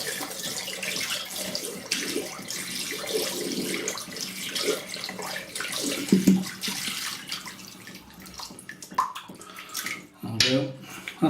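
Warm water runs steadily from a tap to soak a shaving brush for a shave with a 1951 Gillette Black Tip Super Speed razor, a continuous splashing rush with a few sharp knocks and clinks near the end.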